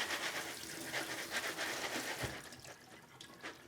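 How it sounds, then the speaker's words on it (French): Pumpkin seeds are rinsed under running tap water. The water splashes and rushes steadily at a low, soft level, with a slight shift partway through. "Et là, on va les rincer plus abondamment."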